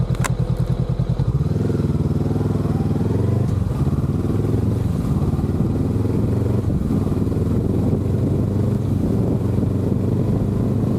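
A motorcycle accelerating hard on a sloppy gravel road, its loud engine revving steadily upward through the gears close by, with rough rumble and occasional thumps from the loose surface and no talking.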